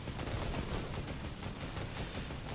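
Rapid gunfire in the Fortnite video game, a dense continuous burst of shots firing in quick succession, loud and filling the whole moment without any voices.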